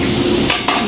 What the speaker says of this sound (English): We're going to give it a quick stir.